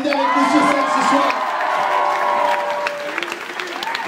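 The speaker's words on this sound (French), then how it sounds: "Ned, on peut l'applaudir, il est avec nous sur scène ce soir." A live comedy show crowd in Strasbourg applauds and cheers, with whoops and shouts rising over loud clapping, while a performer's voice carries on stage through the noise before the clapping thins toward the end.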